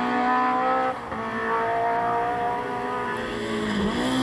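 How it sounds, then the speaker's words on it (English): A rear-wheel drive BMW rally car runs a stage of the 1997 Wexford Stages Rally, its engine droning loud and close with shifting revs and a brief dip before it pulls on hard. "Fisher and McHale in the early 90s as he fires his rear-wheel drive BMW up to seventh place"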